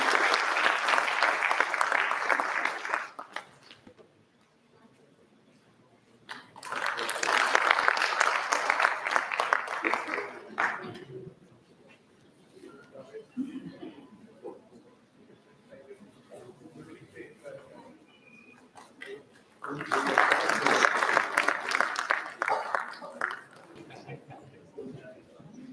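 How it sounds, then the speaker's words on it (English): Audience applause at a pharmaceutical sciences conclave in Delhi, coming in three separate bursts of steady clapping, each a few seconds long, with quieter stretches of room sound and talk between them. "A round of applause for sir, please."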